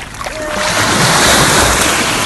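Loud, steady roar of ocean surf washing in close by, a dense broadband rush with a slight swell, no voices.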